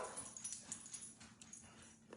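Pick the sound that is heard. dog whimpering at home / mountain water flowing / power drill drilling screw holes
dog whimpering at home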